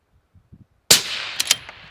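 A single loud, close rifle shot from an Accuracy International in 6mm Creedmoor cracks after a moment of quiet, preceded by faint handling knocks and followed by a short ringing decay with a couple of small echoing snaps.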